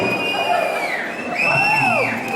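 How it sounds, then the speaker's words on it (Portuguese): Wedding guests cheer and whoop loudly in a rising crowd roar, with shouts and yells carrying close and strong and little distinct clapping. "E por fim, formando a Carla e o seu padrinho Douglas Raimond, uma salva de palmas"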